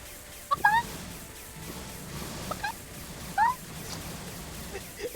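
Cartoonish fowl gobble-clucks from a fantasy video game, a few short warbling bursts spaced across a few seconds at moderate level over a faint background bed.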